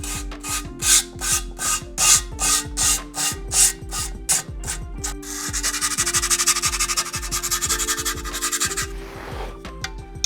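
Grip tape edges on a scooter deck being cleaned up: repeated rhythmic scraping and rasping strokes, close and loud, followed by a steadier continuous abrasive rub, with no talking.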